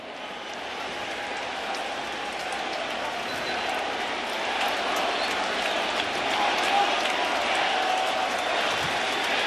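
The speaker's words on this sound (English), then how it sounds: "This crowd is so into it." A crowd at Yankee Stadium cheers and roars continuously during a Yankees home game against the Angels, a dense, sustained wash of noise that swells slightly midway.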